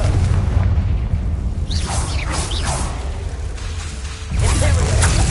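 A Confringo fire spell bursting in Hogwarts Legacy, with a deep rumbling boom and whooshing blasts over a loud low roar of game sound.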